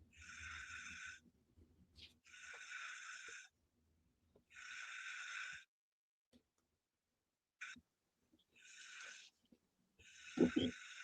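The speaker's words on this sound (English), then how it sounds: "we're gonna listen to him snore" A 5-year-old boy snores in a quiet room, soft rhythmic breaths repeating every couple of seconds, each with a raspy hiss, with a brief louder snort near the end.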